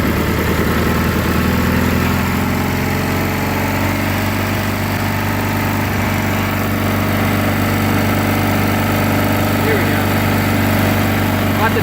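A Cub Cadet 1811 lawn tractor engine, freshly fitted with a new carburetor, runs steadily and loudly at close range, a continuous droning idle with no break throughout.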